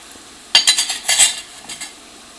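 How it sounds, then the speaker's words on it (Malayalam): Turmeric powder frying and being stirred in a pan for a restaurant-style mixed vegetable curry: a half-second quiet, then a run of close, scraping stir strokes with soft sizzle that fade out toward the end. "ഈ മഞ്ഞൾപ്പൊടി അത് കിടന്നിട്ട് നന്നായിട്ട് മുരിയണം."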